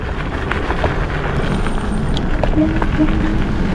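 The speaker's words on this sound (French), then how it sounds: "On va voir comment elle se débrouille sur les chemins type terre avec des cailloux." KuKirin G2 Max electric scooter riding over a stony dirt path, with continuous loud rumble and wind buffeting throughout and occasional small knocks from stones underneath.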